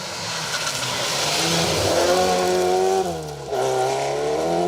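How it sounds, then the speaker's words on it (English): A little 1600 Vauxhall Nova rally car drives a Yorkshire forest stage, its engine loud and close and revving hard, with the pitch climbing through the gears and briefly dropping on a lift-off before pulling again. "another local pair in their little 1600 Nova. Sounds well, doesn't it?"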